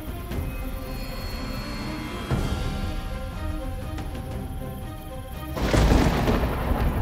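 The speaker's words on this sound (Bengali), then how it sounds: "আকাশ শান্ত নেই, মাঝে মাঝে বিদ্যুৎ চমকাচ্ছে।" Low, rolling thunder rumbles through steady rain as lightning flashes, swelling into a louder, closer crack and boom near the end.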